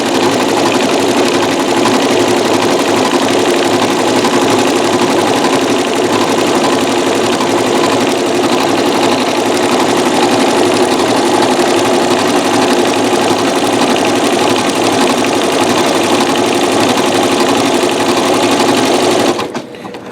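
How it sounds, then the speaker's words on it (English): Janome MC9900 sewing machine running flat out with metallic thread, a dense, even mechanical whir with rapid needle chatter sustained for about twenty seconds before stopping abruptly at the end. "I'm actually sewing at full speed"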